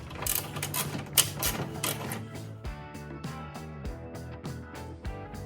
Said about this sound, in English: we're going to start by taking these Torx bolts off